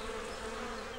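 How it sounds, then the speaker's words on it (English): Cartoon bees buzz in a steady, dense drone in a Thomas & Friends children's animation, continuous and fairly close throughout the brief moment. "But the bees weren't listening to Thomas. They were too busy buzzing"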